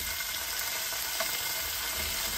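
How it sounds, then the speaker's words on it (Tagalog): Thinly sliced pork for Filipino-style pork steak frying in a pan, giving a steady, close hiss of sizzling oil with no one talking. "iprito na po natin yung ating pork"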